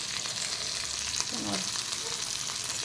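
Bangda mackerel fish frying in a pan, a steady close hiss of sizzling oil with occasional faint crackles and brief background murmurs.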